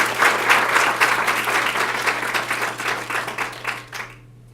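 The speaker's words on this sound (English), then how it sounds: "we should give a big round of applause to Sandy and Anne-Louise for making this symposium happen" An audience at a symposium in Toronto breaks into a round of applause: dense, sustained clapping that fills the room, then tapers off and ends abruptly near the close.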